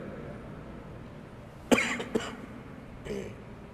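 A man coughs once, then a second short cough follows, and a softer throat-clearing comes about a second later, all against quiet room tone during an Islamic religious lesson.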